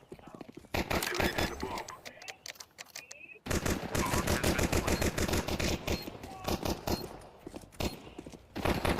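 Rapid bursts of gunfire from a Persistent gun in a video game, rattling automatic shots in dense volleys after a brief lull, with voices talking over them.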